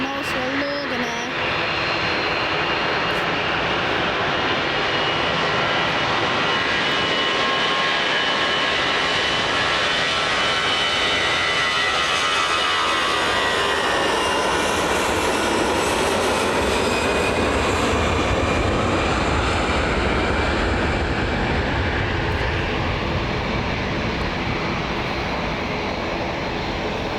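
Jet airliners, including easyJet, Jet2 and Loganair aircraft, at Manchester Airport give a loud, continuous engine roar with a high whine rising and sweeping over it. The sound holds steady throughout, with some voices in the background.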